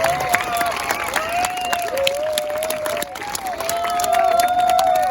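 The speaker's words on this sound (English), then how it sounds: "how about another big round of applause for all of our veterans" Applause from an audience at an elementary school Veterans Day assembly, a steady continuous patter of many hands with crowd murmur and a sustained tonal line running underneath.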